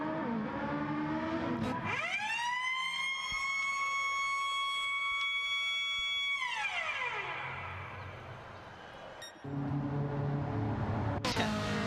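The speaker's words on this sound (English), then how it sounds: "Big siren noise in the pits there." A loud mechanical pit lane siren in a racing video game at Spa winds up, holds a steady wailing tone for several seconds, then winds down, with engine noise before and after.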